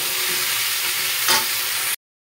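Steady broadband sizzle of food frying in a pan, continuous and close, with a brief louder stir or scrape near the end before it cuts off.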